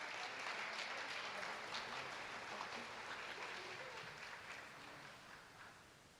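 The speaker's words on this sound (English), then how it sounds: "Let's give all these girls a good round of applause" A round of applause from the crowd at a school all-sports banquet, honoring the girls' team, a steady, fairly quiet patter of many hands that gradually tapers off.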